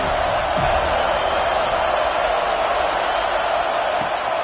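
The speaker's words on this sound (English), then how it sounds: "This crowd bringing the energy and noise early." Stadium crowd noise in a college football video game: a steady, broad roar from a large crowd fills the background evenly throughout, with no distinct cheers or spikes standing out.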